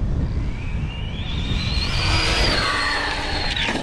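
An Arrma Infraction RC car driving on its stock gears, a loud motor whine climbing in pitch as it accelerates away, with rushing wind noise and no talk.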